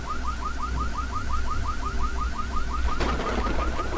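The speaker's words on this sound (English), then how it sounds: "How do I turn off the alarm?" Car alarm in the first-person horror game Exanimum: The Silent Call, a steady rapid warbling siren pulsing again and again over low ambient rumble, with a harsh burst of noise near the end.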